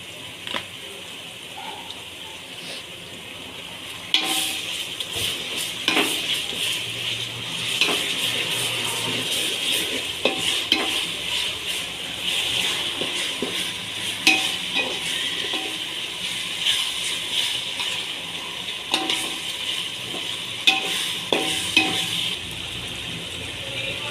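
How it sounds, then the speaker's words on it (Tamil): Ginger garlic paste for chicken kurma sautéing in a pan, a steady close sizzle with frequent scraping stirs and occasional sharp utensil taps against the pan, no voices. "இந்த இஞ்சி பூண்டு பேஸ்ட்டை வந்து பச்சை வாசனை போகிற அளவுக்கு நல்லா வதக்கிட்டோம்"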